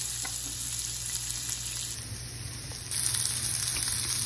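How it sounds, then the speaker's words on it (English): Garlic and sweet pepper fry in butter and olive oil in a pot, giving a loud, continuous close sizzle that grows slightly louder toward the end. No voices are heard. "Then I'm gonna add some garlic to the pot with some sweet pepper."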